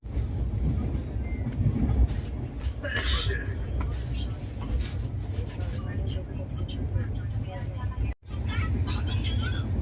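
New Delhi–Darbhanga Humsafar Express train rolling along near Tilak Bridge in Delhi, a steady loud low rumble of wheels and carriages throughout, with people talking over it and a brief dropout near the end.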